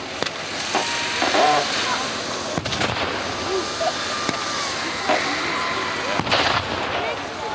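Artillery and gunfire sound across a WWII battle reenactment at the Victory Show, with sharp booms and cracks at irregular intervals over a continuous outdoor rumble of vehicles and crowd, and an announcer's voice in the background.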